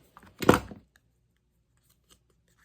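Scissors snipping a small leftover paper nib off a punched card for a junk journal, a single short crisp cut at close range in an otherwise quiet room.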